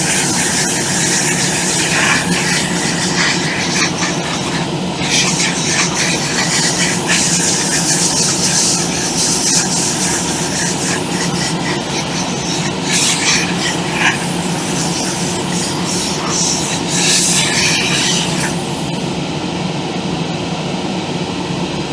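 Compressed air is blown steadily across a model locomotive's side and chassis to speed up weathering, a continuous loud hissing rush lasting throughout with no voices.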